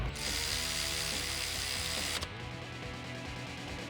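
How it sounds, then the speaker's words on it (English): A 13mm ratchet tightens a bolt on a 2011-2014 Mustang GT alternator and idler pulley setup, giving a dense, steady mechanical clicking for about two seconds before stopping, with quieter shop background afterward. "Go ahead and tighten it down, still using our 13mm."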